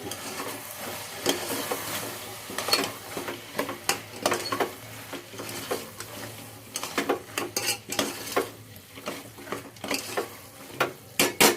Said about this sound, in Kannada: ಸೊ ಇಷ್ಟು ಹಾಕಿ ಆದಮೇಲೆ ಒಂದು ರೌಂಡು ಮಿಕ್ಸ್ ಕೊಡಿ